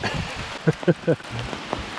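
Rain and sleet of a cold wintry mix falling outdoors by a lake during a November fishing trip, a steady close patter with a few brief voice-like bursts in the middle.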